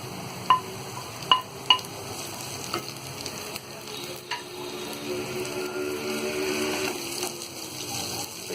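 Green chilies frying with golden-brown onions in hot oil over a lowered gas flame, a steady close sizzle with a few sharp metallic clinks of stirring near the start, and no voices.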